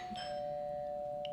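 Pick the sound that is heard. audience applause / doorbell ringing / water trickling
doorbell ringing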